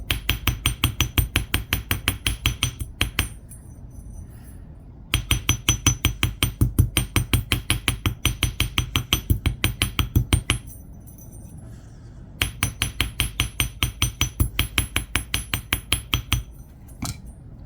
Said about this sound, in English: gently use the flat end of your hammer, or if you have a rubber mallet